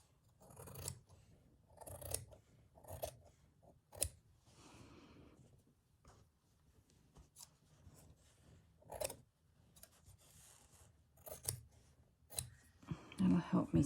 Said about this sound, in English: Just give that a little trim.